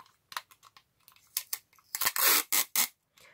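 Plastic bag holding a card being folded over at the edges, giving a run of close crinkly crackles and crunches in irregular bursts, loudest near the end, with no voices.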